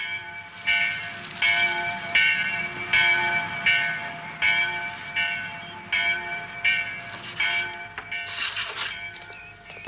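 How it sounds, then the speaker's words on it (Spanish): A church bell in a small mountain village tolls in a steady, regular rhythm, each strike ringing out and fading into the next, clear and fairly close, in an animated Heidi cartoon. "¿Oyes la campana de la iglesia?"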